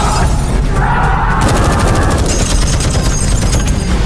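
Bursts of gunfire from an Indonesian action film teaser, rapid machine-gun fire mixed with booms and crashing impacts, loud and dense throughout with a driving rhythm and no speech.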